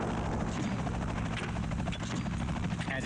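An Afghan Air Force Mi-8 helicopter flies nearby, its rotor chop and turbine whine forming a loud, steady drone with rhythmic blade pulsing throughout.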